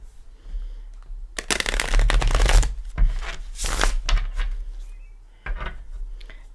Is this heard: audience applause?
no